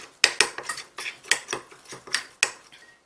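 Wasabi powder and water are stirred briskly in a small bowl, a run of close, sharp clinks and scrapes of a utensil against the bowl in an irregular rhythm, with no talk.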